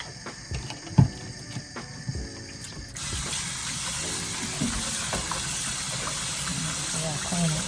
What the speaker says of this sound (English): Pour a little bit of vinegar to help clean it.